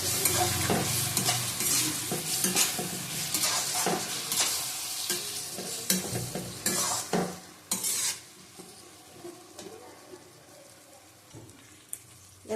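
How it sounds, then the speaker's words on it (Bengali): Chicken and tomato fry in a pan for a lightly spiced Bengali chicken curry, with a constant sizzle and busy close spatula scraping and clatter that thin out toward the end, no voices heard. "টমেটো দিয়ে দিলাম ভালো করে কষিয়ে নেবো আবার"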